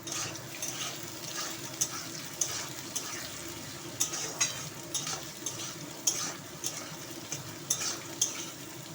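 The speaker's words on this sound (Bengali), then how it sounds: "আলু ভাজা হয়ে গেছে সাথে পেঁয়াজগুলো ভাজা হয়ে গেছে" Potatoes and onions fry together in hot oil with whole garam masala and cumin, a steady soft sizzle broken by regular scraping strokes of a spatula stirring the pan.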